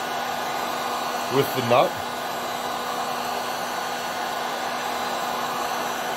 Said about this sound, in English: this heat gun is super, super hot